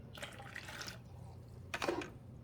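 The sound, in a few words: water being poured out after brewing through Keurig coffee maker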